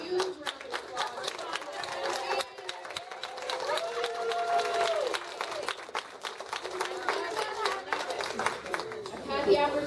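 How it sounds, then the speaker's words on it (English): Audience at a gathering welcoming first-time guests breaks into sustained applause and clapping with crowd chatter and some voices mixed in, continuing loudly throughout. "give them a huge round of applause"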